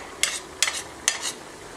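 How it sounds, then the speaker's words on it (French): Black soybeans frying and being stirred in a pan: three brief scraping, sizzling strokes spaced evenly, close and fairly quiet. "quand le soja noir est bien frit"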